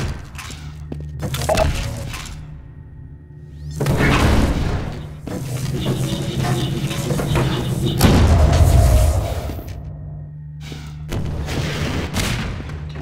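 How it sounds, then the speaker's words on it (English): Rocket launcher blasts and heavy explosions during a Half-Life 2 Deathmatch match come as several loud booming bursts with rumbling tails spread across the stretch, separated by brief quieter gaps. "they got the rocket launcher. Is that rocket right now?"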